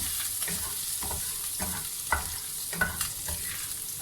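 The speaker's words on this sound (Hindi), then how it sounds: "अदरक को हमने ब्राउन नहीं करना, बस जस्ट इस तरह हल्का सा गर्म हो जाए" Fresh ginger warming gently in oil in a pan while samosa filling is prepared, giving a steady close sizzle broken by several soft stirring scrapes at a loose, uneven rhythm.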